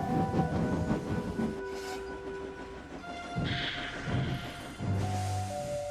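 Steam engines puffing along a railway line at night: a steady rolling mechanical rumble with hissing bursts and a few whistle-like tones, at moderate distance, with no talking.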